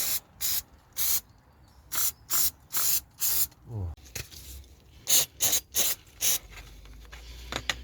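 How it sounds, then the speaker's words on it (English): Carb cleaner is sprayed onto a dirty brake caliper in a series of short, loud hissing bursts with brief pauses, followed by faint handling noises and a low rumble. "I'm going to go in with a carb cleaner."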